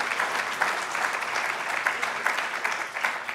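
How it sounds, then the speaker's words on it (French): An audience at the opening of the Congrès Paille 2023 in Poitiers applauds elected officials, a full, even patter of many hands with occasional crisper claps, sustained and close. "On peut les applaudir bien fort"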